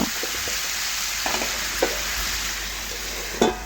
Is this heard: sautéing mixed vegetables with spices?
yes